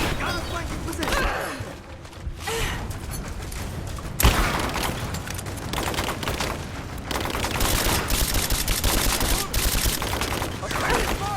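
Combat in Rise of the Tomb Raider rages with steady, loud, rapid gunfire and a sharp crack partway through, while shouting voices cut in over the din.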